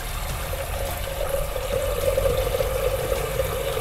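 Water pours steadily into a pot holding a little salt, a continuous close trickling splash that swells slightly partway through, with no voices.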